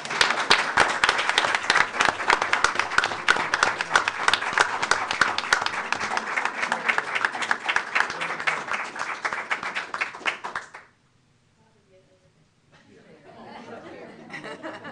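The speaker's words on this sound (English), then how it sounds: "join me in giving them a big round of applause" A crowd at a school board of education meeting applauds steadily for about ten seconds, with chatter mixed in, then the clapping stops abruptly and faint talk follows.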